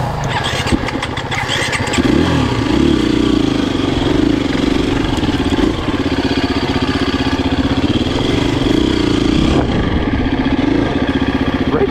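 A KTM 350 four-stroke enduro motorcycle engine runs loudly and steadily close by, with a few throttle swells and a dip in pitch near the end, no voices over it.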